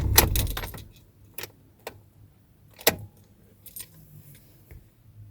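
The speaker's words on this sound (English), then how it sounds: "If I turn off the car" Keys jangle and click as a car's ignition is switched off, a cluster of bright metallic rattles at the start followed by a few sparse, faint ticks and clicks in an otherwise quiet cabin.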